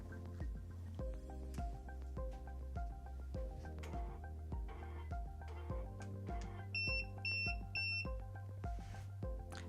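Three short high electronic beeps from an RR20 motorized blind system sound in quick succession over a faint whirring motor hum, close and fairly quiet.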